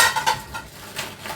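Dishes clatter while being loaded into a home dishwasher, with a quick irregular run of light clinks and knocks of crockery and cutlery, close by and fairly quiet.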